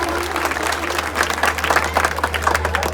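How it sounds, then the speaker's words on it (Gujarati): Steady applause from a crowd, dense clapping that holds at an even level throughout with a constant low hum underneath. "તો એકવાર જોરદાર તાળીઓ થઈ જાય"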